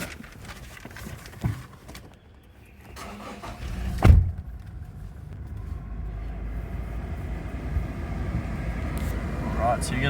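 A Toyota Hilux door thuds shut with a sharp bang, followed by the engine turning over and settling into a steady idle rumble inside the cab, with some talk before it.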